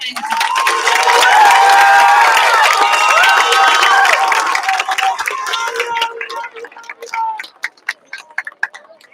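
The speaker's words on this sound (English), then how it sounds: "Can we get a round of applause" A crowd at a fifth grade promotion ceremony cheers and claps, with loud overlapping voices and whoops at first that thin out into scattered individual claps toward the end.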